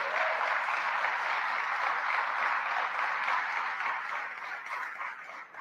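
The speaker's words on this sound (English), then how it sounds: "Let's give our mayor a round of applause." A crowd applauds the mayor at a public event in Rochester, steady dense clapping that holds for several seconds before thinning slightly at the end.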